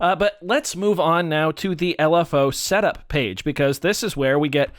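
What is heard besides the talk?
No everyday noises stand out.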